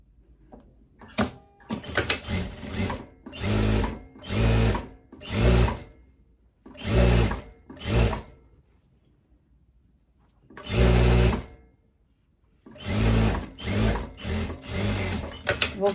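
Sewing machine stitching the sleeve and lining of a teddy coat, in loud separate bursts of rapid stitching a second or two long, divided by short pauses.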